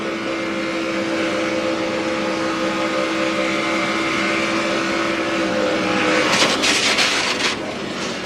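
A NASCAR race truck engine at full throttle during the 2014 SFP 250, a steady, loud sustained roar from trackside that swells and grows harsher near the end.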